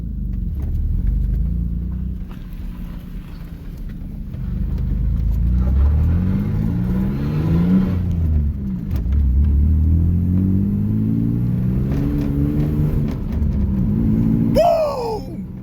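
Pickup truck fitted with a Cherry Bomb muffler rumbles as it accelerates down the road, the exhaust rising and dropping through several gear shifts, close and loud, with a sharp rev burst near the end.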